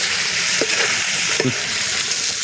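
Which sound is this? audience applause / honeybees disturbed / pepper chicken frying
pepper chicken frying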